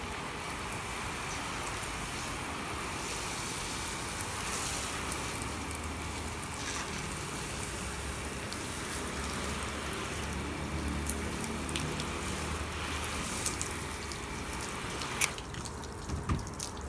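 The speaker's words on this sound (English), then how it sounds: "I'm going to go ahead and rinse it off and see what we see" Water rinses strip wash off a surface, a steady hiss of spray and splatter with dripping, constant and fairly faint.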